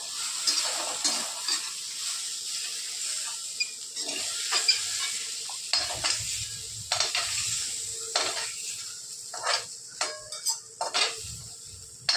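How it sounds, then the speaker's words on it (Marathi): Potatoes being stirred in a hot frying pan for a simple Marathi potato and cluster-bean dish, with a steady sizzle and repeated scraping strokes of a spoon against the pan. "पाच मिनटं परतून घेतो पाच मिनटं झालेले आपण आता बटाटे काढून घेतो आहोत"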